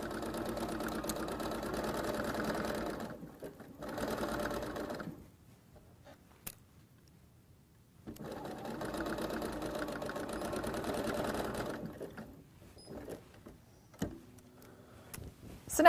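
A sewing machine stitches fabric for a pair of pajama pants in two steady, whirring runs of several seconds each, separated by a pause with faint handling clicks and rustling.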